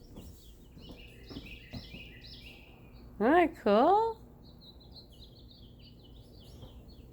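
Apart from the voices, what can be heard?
birds singing outdoors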